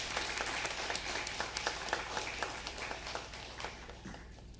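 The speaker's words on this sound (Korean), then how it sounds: "저희 함께 환영의 박수를 드리겠습니다" A church congregation applauds to welcome visiting guests during a Sunday worship service, a steady patter of many hands clapping at a fairly soft level throughout.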